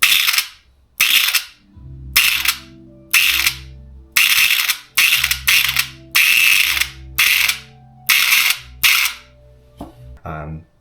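A VFC MP5A4 airsoft DSG gearbox, wired to a micro switch, cycles in about a dozen short, loud mechanical rattling bursts separated by brief pauses, each ending with a whirring spin-down, and a few small clicks at the end.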